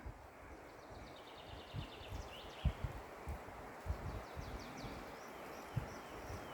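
A light breeze moves through the leaves of a hot, dry summer forest, making a faint, continuous rustle with soft, regular thuds beneath it.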